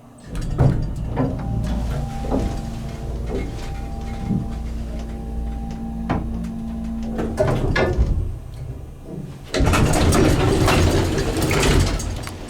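A vintage ESCO hydraulic elevator in the Anderson Schaefer Building runs its motor, with a low mechanical hum under clanks, knocks and clicks from the car and doors, ending in a louder, rushing stretch of machinery noise.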